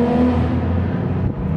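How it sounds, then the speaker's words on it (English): A car engine hums and revs steadily at close range, a continuous low rumble with no voices. "What car does that sound like?"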